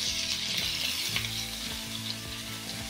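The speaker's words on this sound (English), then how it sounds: "Oh, you can hear it sizzle." Salmon brushed with a sweet mint julep glaze sizzles and fries steadily in a hot pan, a constant close hiss with a few soft stirring and brushing sounds and no voices.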